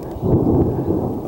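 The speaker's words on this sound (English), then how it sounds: "We're going to hear the thunder here in a minute." Thunder rolling in after a lightning strike over a house building site, a low, rumbling swell that rises, holds and fades over about a second, moderately loud and heard on its own.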